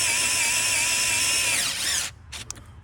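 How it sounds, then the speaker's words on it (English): Power screwdriver driving screws into a saddlebag lid on a 2020 Harley-Davidson, a steady loud whirring motor that winds down and stops, followed by a few quiet clicks and handling knocks. "putting these 3 screws back in. Well, I just pulled the screwdriver."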